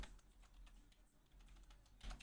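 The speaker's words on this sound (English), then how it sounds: "I'm typing this without being able to see it." Quiet, quick keystrokes on a computer keyboard make a short run of soft clicks, ending in a slightly louder tap.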